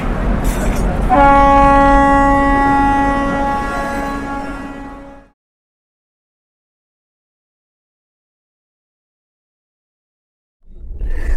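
A train horn blares loudly for several seconds with rumbling rail noise, then cuts to silence before more rumble returns at the end.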